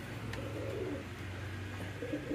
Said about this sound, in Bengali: ওই যে দেখেন কিং কবুতর দখল নিয়ে নিয়েছে তাদের বাসায়